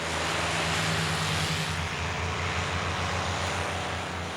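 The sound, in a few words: P-51 propeller airplane engine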